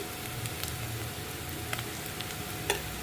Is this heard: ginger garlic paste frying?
yes